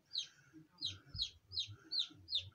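Small bantam chickens call in the morning with a run of six short, bright chirping clucks at an even pace, fairly close, over low background rumble.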